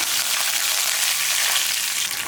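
Steady, bright sizzling of mustard seeds, whole urad dal and curry leaves frying in hot oil, a continuous hiss with faint crackles and no voices.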